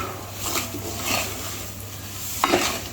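Mung dal flour is stirred and roasted over a low flame in a pan for a Marathi-style halwa. A spoon scrapes the metal in slow, repeated strokes under a gentle sizzle, with one sharper clink near the end.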